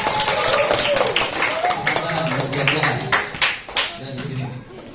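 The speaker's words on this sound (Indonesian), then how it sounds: "Beri tepuk tangan untuk kelompok 2." A classroom of students clapping hands for a group, loud close clapping mixed with children's voices and chatter, tapering off toward the end.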